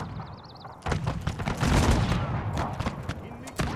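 Musket volleys crackle in a Napoleonic-era war strategy game set at the siege of Lisbon, a dense, loud ragged fusillade of overlapping shots with a few sharper single cracks near the end, heard over in-game ambience.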